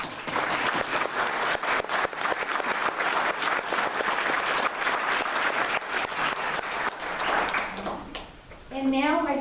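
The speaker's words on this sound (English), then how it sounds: "give you a round of applause" Sustained round of applause from an audience at a student thank-you event for supporters, dense and steady clapping for most of the stretch, fading as a speaker's voice comes in at the end.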